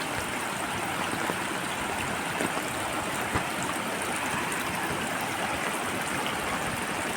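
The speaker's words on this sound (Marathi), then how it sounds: "बघा ह्यो व्हाळा" A rain-swollen village stream rushes steadily, a dense continuous roar of flowing water heard close and loud without pause.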